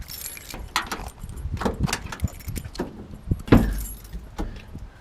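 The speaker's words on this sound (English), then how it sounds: "I'm going to open the door." Keys jangle and an old pickup truck's door rattles and clunks open with a metallic thump, close by, amid scraping and handling noises.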